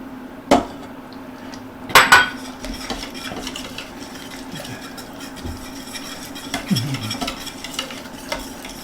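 Sauce for a Kentucky Hot Brown whisked in a pan, a near, steady scraping with sharper clinks of the whisk against metal around the half-second and two-second marks; no one talks.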